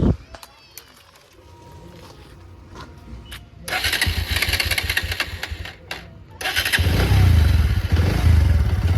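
Overheated motorcycle engine running close by, idling roughly and then revving up loud and sustained, with a clattering mechanical note and a person talking over it.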